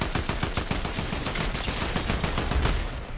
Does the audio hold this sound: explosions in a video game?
yes